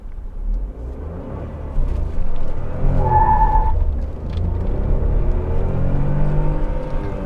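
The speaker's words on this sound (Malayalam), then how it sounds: "ചെറുതായിട്ടൊന്ന് വീൽ സ്പിൻ കണ്ടില്ലേ" A 2020 Tata Nexon BS6 turbo petrol in sports mode launches from a standstill with slight wheel spin. A steady engine rumble swells as it pulls away, a brief tyre squeal cuts through midway, and no one speaks.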